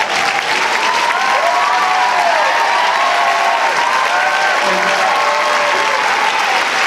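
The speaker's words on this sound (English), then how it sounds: "We're gonna clap for everybody." Audience at a high school jazz and marching band awards event applauding, loud sustained clapping from a crowd with some voices and cheering mixed in, steady throughout.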